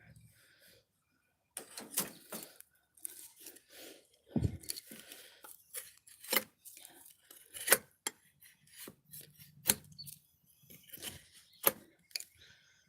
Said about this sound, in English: I'm going to go ahead and delicately trim that off right there.